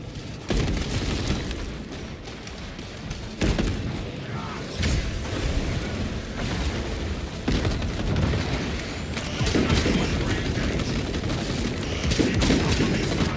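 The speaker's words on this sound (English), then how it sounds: "Servo gun going to work. Or sentry turret." A servo gun sentry turret fires in the Space Marine video game, sustained bursts of loud, close gunfire that pause and resume several times over a heavy battle din.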